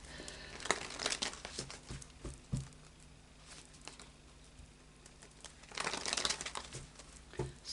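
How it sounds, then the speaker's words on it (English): An Oracle of Visions card deck is shuffled by hand, giving soft, irregular riffling and crinkly patter in bursts close by, with a louder flurry toward the end and no speech. "I'll just do a bit of a shuffle of the Oracle of Visions"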